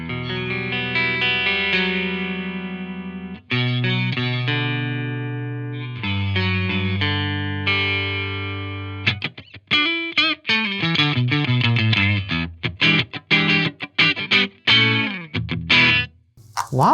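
Electric guitar played through an ENGL Ironball SE amp set to 1 watt, loud and close: sustained ringing chords first, then quicker choppy strummed and picked passages with sharp stops, in a clean, undistorted tone.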